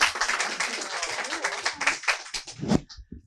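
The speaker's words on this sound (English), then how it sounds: "Give them a round of applause." An audience at a bookstore author event gives a round of applause, lively close clapping that thins toward the end as a few last claps and a voice come through.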